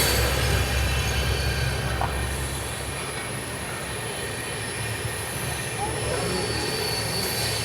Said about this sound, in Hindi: अब ये पता नहीं कौन सी ट्रेन है